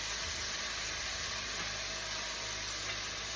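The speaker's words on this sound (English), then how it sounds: "I'm gonna put them in. And let this saute for a minute." Chopped ingredients for a Jamaican breakfast of okra and salt mackerel saute in a hot pan, a steady, even sizzle and hiss that holds close and constant, with no talking.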